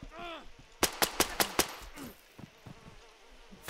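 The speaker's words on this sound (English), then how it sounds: "Be careful, someone's shooting." Rapid burst of five loud gunshots from a video game, sharp and evenly spaced, followed by a few fainter scattered shots amid a high buzzing background.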